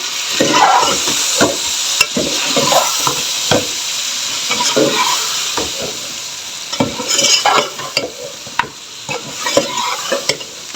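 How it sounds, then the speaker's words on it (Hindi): Red chili and coriander powder masala fries in hot oil while a spoon stirs it, a loud, close, steady sizzle broken by repeated scraping taps against the pan. "अब इस मसाले को हम हल्का सा भूनेंगे।"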